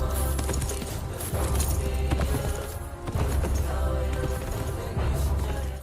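Rhythmic hollow clopping of coconut shells imitating horse hooves at a gallop, with galloping beats and dramatic music swelling underneath.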